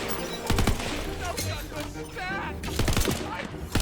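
Enemy gunfire in the video game Tiny Tina's Wonderlands crackles in short rapid bursts separated by brief gaps, sharp and fairly loud, while a player talks throughout.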